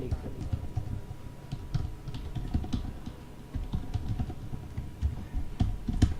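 Steady, close typing on a computer keyboard while an email address is entered, a continuous run of quick clicks lasting several seconds, with no voices.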